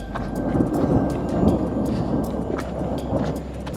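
Thunder rumbles through a snowstorm on Kilimanjaro during a descent toward base camp, a steady low roar with brief crackling bursts, sustained and fairly loud over wind and precipitation noise.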